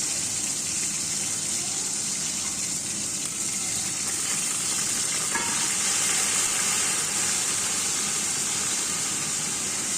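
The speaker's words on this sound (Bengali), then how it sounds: "এবার এই বাটিটা ধুয়ে সামান্য পরিমাণ জল দিয়ে দেব" Water pours into a pan of ground spices for a snakehead fish curry, giving a steady sizzle and gush that lasts throughout, with a faint scrape of stirring.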